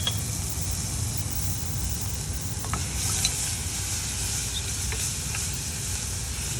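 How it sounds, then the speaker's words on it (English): A vegetable mixture sautéing in butter in a hot pan, with salt and pepper added, for Sauce Chasseur: a continuous close sizzle with a few soft stirring scrapes, no voices. "We'll still continue to saute or sweat"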